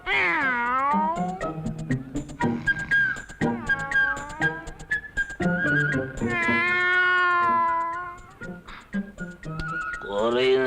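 Repeated drawn-out cat meows, rising and falling in pitch, mixed with voices in the background.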